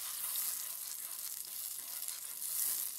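Garlic chutney sizzling and frying in a pan as it cooks, a steady hissing crackle at close range that carries on without a break and with no voices.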